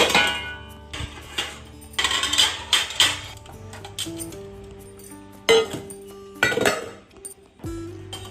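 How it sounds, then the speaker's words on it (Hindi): Washed dishes put away in a home kitchen: repeated clinks and clatters of steel utensils and pots in irregular bursts, close and fairly loud, with quiet gaps between. "सबसे पहले सुबह के धुले हुए बर्तन रखे मैंने"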